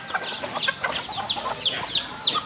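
Farmyard chickens being fed cluck and chatter in quick overlapping bursts, several birds close together making a busy, continuous clucking with no talk.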